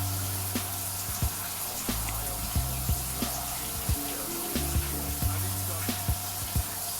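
Shower water running steadily through a hair-washing routine, a continuous hiss with recurring soft thumps and splashes as hands move through the spray, close and moderately loud with no talking.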